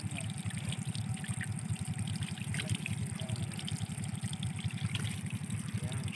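A hidden spring trickles with a steady, unbroken burble of running water close by, while voices are faintly present in the background.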